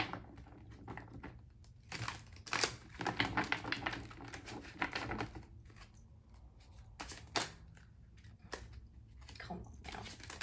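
Tarot cards from the Vice Versa Tarot deck are shuffled in quiet, irregular bursts of riffling and flicking, close by, with pauses between handfuls.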